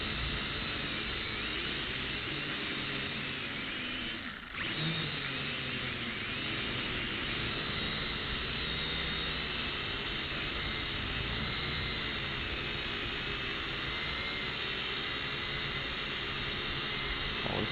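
A Syma X5C quadcopter drone flies close by, its rotors producing a steady, loud hissing whine that holds level throughout with only a brief dip in the middle.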